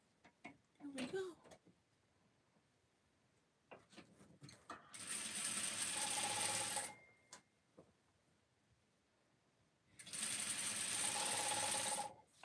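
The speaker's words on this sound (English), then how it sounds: "how I'm keeping this straight is I'm just using the sewing foot and guiding it" A sewing machine stitching a ruffle anklet runs in two steady, close whirring bursts of a couple of seconds each, separated by quieter handling clicks and a few soft sounds between runs.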